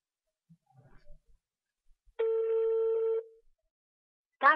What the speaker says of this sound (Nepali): पन्त सर, तपाईँ टेलिभिजन हेर्दै हुनुहुन्छ भने कृपया हाम्रो फोन एकपटक रिसिभ गरिदिनुहोस्।